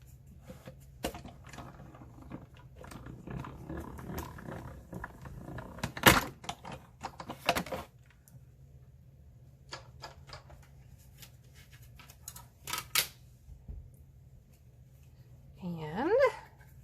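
A hand-cranked die-cutting machine pushes a 3D embossing folder sandwiched between cutting plates through its rollers, making scattered mechanical clicks, knocks and soft thumps up close, with a brief squeak near the end.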